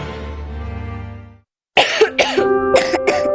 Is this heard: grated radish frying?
no